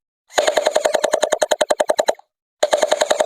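Battery-operated M92 gel blaster firing water bullets in rapid automatic bursts, a loud, close, evenly spaced stream of sharp clicks and pops, then a short pause before another burst begins.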